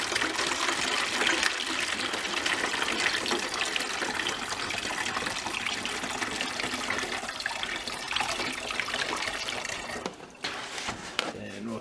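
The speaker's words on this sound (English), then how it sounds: "So I'm going to take and pour just a shade in here" Hydroponic nutrient solution pours from a jug into a container for microgreens, a steady splashing trickle running nearly the whole time and tapering off near the end, with no talking.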